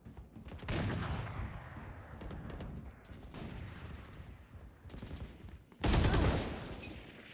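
Gunfire in a shooter video game, sniper rifle and Desert Eagle pistol: dense rapid volleys of shots with a louder, heavier burst near the end, continuous with no talking.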